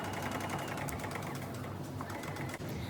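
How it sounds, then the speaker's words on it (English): A sewing machine runs continuously and close up while top stitching a pressed seam on a shirt sewn from an upcycled tablecloth, a fast, even mechanical whir with no talking. "now I'm going to top stitch it into place"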